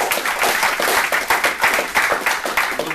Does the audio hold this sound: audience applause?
yes